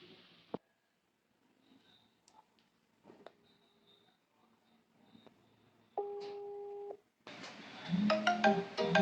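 A phone call in an Indonesian home setting: a steady electronic ringback tone holds for about a second, then a brighter patterned ringtone follows, with faint clicks and handling noise before it and no talk over it.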